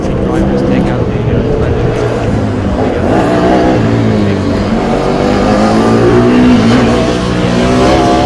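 A Formula Student race car circling the skid pad at a competition event, its engine droning steadily and loudly with slight pitch swells as it holds the turns, close by and continuous, with a commentator speaking over it.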